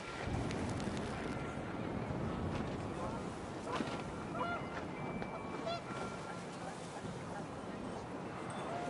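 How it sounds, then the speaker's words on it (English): Panicked geese honk in What Remains of Edith Finch, a flurry of honks layered over steady wind and a noisy outdoor bed, with calls scattered throughout rather than isolated. "The wind picked up, and panicked geese appeared and quickly went."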